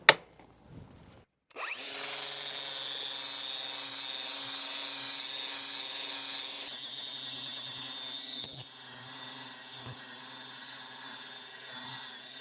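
Angle grinder cutting metal parts of a Record vice outdoors: a short knock, then a steady high whining grind that holds for about ten seconds and eases slightly toward the end.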